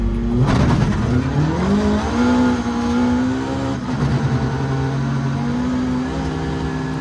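A car pulling away in first gear as the clutch comes up, engine revving loudly and climbing in pitch through a sustained pull, close and dominant with no talking.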